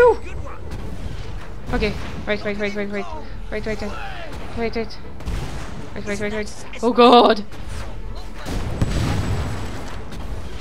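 Cannon fire and explosions rumble in Fable 3 during a mortar battle, with heavy booms landing under nearly constant excited talk from players.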